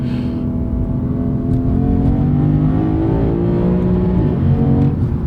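A 2023 Lexus IS500 engine revs up loud and close, its pitch climbing steadily as it accelerates through second gear without a break.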